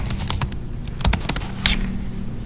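Keys clatter on a computer keyboard in quick, uneven bursts of close, crisp taps, with a few brief pauses between flurries.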